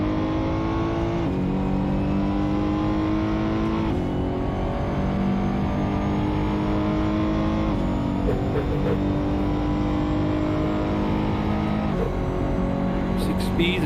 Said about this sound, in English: Love the sound of the exhaust.